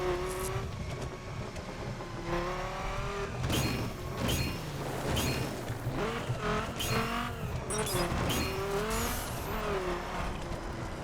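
A race car in the video game The Crew accelerates hard through a mountain time trial, its engine whining up through repeated gear changes with tire squeal and skids, loud and continuous with no talking.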